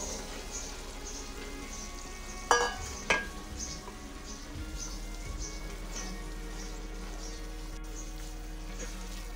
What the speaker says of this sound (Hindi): चनों को अच्छी तरह भून लें,